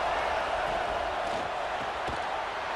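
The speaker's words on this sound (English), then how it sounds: "here comes the noise. This crowd is trying to inspire this defense to make a big red zone stop." A stadium crowd roars in a PlayStation football video game, a broad, loud and steady wash of crowd noise with scattered thumps beneath it.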